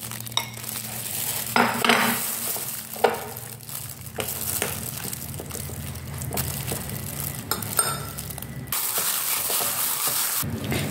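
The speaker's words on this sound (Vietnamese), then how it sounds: "Bây giờ mình sẽ cho phần thịt và vào nhé, để mình trộn đều lên." Cooked meat stirred into sticky rice in a pot, with a spoon scraping and clinking against the metal and soft mashing, squishing mixing sounds in irregular strokes alongside a faint sizzle.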